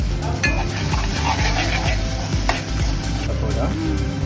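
Tomato and fenugreek egg curry sizzles and fries in a pan while being stirred, with a steady loud crackle and intermittent scraping stir strokes throughout, no voices.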